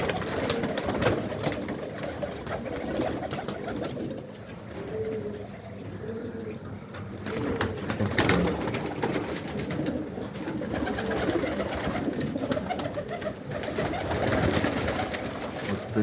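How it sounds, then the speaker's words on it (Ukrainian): Pigeons coo in low, rolling calls that repeat steadily over a constant outdoor hum. "такі вони голуби"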